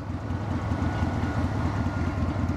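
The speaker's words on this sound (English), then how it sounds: "It's a fucking train," A loud, close train rumbles past steadily, with a heavy low-pitched roar and faint rhythmic rattling throughout.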